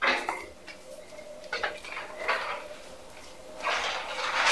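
A spoon scrapes and clinks against a pan while spices are mixed into potato and pea curry, several uneven stirring strokes at close range with no speech.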